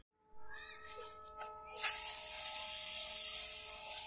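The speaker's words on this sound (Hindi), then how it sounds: "और अब हम करेंगे इसे अपने पौधे पर स्प्रे।" After a few soft clicks and faint tones, a spray bottle lets out a steady hissing mist of homemade mealybug treatment onto a plant's leaves, lasting a couple of seconds up close.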